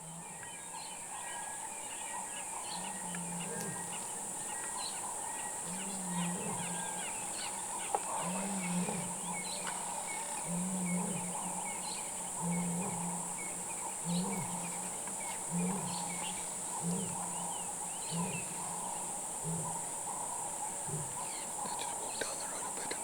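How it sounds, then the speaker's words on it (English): In the early morning in the wild, a lion calls far off with a slow, rhythmic run of low grunts that repeat about a dozen times. Faint birdsong and quiet ambient noise sit around the calls. "a lion calling"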